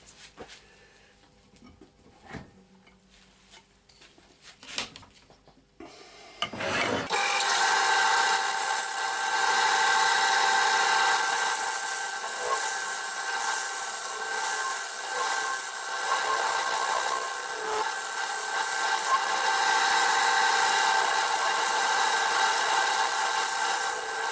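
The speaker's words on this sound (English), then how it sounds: "I think I'll go on to a scraper actually." A scraper chisel cuts wood on a woodturning lathe: faint taps and knocks come first, then a loud, continuous rasping scrape starts suddenly about a third of the way in and holds steady to the end.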